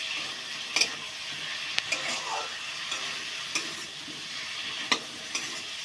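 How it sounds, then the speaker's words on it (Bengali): Fried potatoes stirred into cooked spice masala in a pan for a bhetki fish-bone curry, a steady sizzle with repeated clicking scrapes of the spoon, close and moderately loud, no talking. "এবার এই পর্যায়ে দিয়ে দেবো ভেজে রাখা আলু হালকা দিয়ে একটু নাড়িয়ে চাড়িয়ে ভালো করে"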